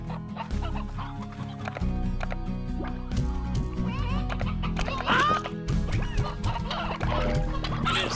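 Chickens and roosters in the Slime Rancher video game give repeated clucks and squawks over a busy game soundtrack with sloshing effects, the bird calls scattered and fairly prominent throughout.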